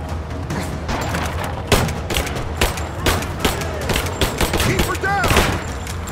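Gunfire in the video game Rise of the Tomb Raider, rapid bursts of shots and impacts in a dense, continuous volley, with someone talking over the action.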